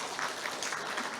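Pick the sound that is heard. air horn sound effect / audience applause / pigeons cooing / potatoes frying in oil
audience applause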